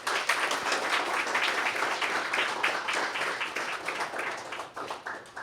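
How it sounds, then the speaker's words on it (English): An audience at a summer appreciation luncheon claps in a dense, lively round of applause, many hands close by, continuing throughout before thinning slightly near the end. "Give yourselves another round of applause."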